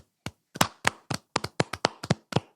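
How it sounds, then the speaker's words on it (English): Scattered handclaps from a few people applauding a Supercross rider at a race, about a dozen sharp claps spread irregularly over a couple of seconds, close by and without speech. "Round of applause."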